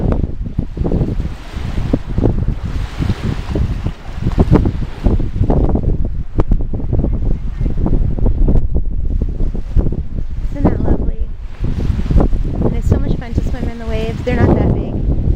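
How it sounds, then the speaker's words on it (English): Ocean waves wash onto a beach in a steady roar, with gusty wind buffeting the microphone. Surf swells and recedes continuously at close range and fairly loud throughout. "I just want you to be able to hear the waves better."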